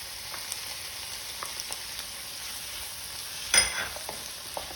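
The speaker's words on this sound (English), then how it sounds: "Now let's add chopped tomatoes." Chopped tomatoes sizzling in a hot pan with softened onions for kadai paneer, a soft continuous sizzle with scattered stirring clicks and one louder splash of frying near the end.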